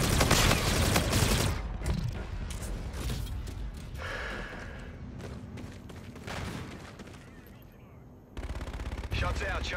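Automatic and single gunfire bursts from a Call of Duty Infinite Warfare multiplayer match, loud and dense through most of the stretch, with brief lulls and a renewed volley near the end, mixed with game effects and radio-style voice chatter.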